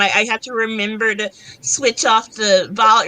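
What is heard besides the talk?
No everyday noise stands out behind the speech.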